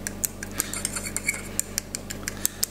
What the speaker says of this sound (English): What I'm going to do is just going to scrunch them up with a fork